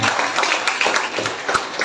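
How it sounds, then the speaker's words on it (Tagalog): Church congregation at a Sunday service clapping in praise, a brief, dense patter of hands at moderate volume with faint voices underneath. "Isang malakas na papuri na palakpak sa Kanya"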